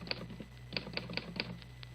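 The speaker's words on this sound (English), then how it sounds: "I'll type out the exact phrase for you now on my Underwood typewriter." Keys striking on an Underwood typewriter, a quick run of sharp mechanical clacks in uneven bursts, fairly close against a quiet steady background hum.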